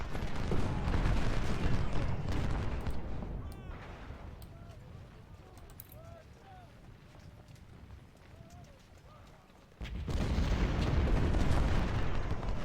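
Artillery fire and battle noise from the Ultimate General: Civil War game, a loud dense rumble with scattered bangs that eases into quieter distant clatter, then swells again near the end.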